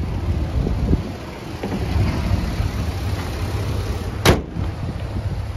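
A 2007 Dodge Dakota pickup truck with its engine running, a steady low rumble heard close up, with one brief sharp click or knock near the end and no talking.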